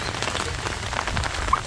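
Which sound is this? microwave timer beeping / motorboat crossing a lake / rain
rain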